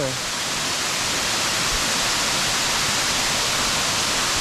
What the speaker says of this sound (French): C'est vraiment une belle cascade.